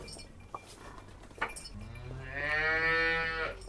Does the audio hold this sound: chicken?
no